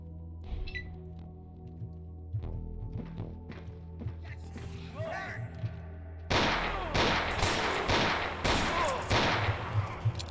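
Gunfire in the game Ashes 2063, with scattered shots and footsteps at first, then a louder burst of several close, heavy shots in quick succession.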